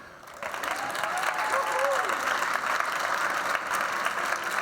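A crowd applauds a guest being introduced at a late-night-style insurance industry show, a steady wash of clapping rising after a brief quieter start and holding fairly loud to the end.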